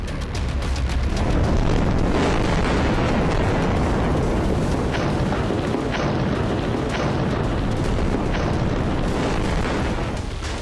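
Explosions destroy Israeli tanks and armoured vehicles in northern Gaza, a dense roar of blasts and rumbling debris with repeated sharp bursts, loud and sustained throughout with no voices.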